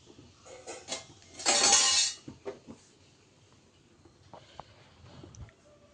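Beetroot dosa shifted onto a plate, with several light clinks and taps of dishes and utensils and one louder scraping burst near the start, heard close up.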